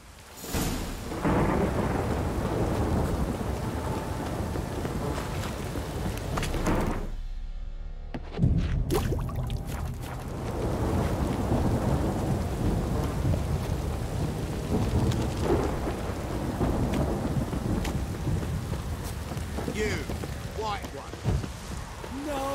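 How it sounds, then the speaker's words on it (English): Thunderstorm with a heavy downpour in The Witcher 3: Wild Hunt, rain roaring steadily with deep rumbling thunder, a brief drop-out near the eighth second, then rain continuing loud. "This downpour's a bastard,"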